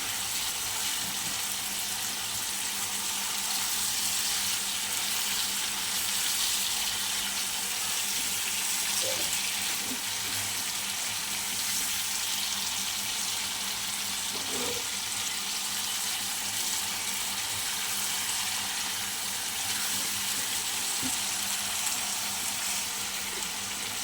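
Spices, chopped onion and tomato fry in a pan for a goat liver curry, giving a continuous soft hiss of sizzling oil with a few faint stirring clicks, no voices over it.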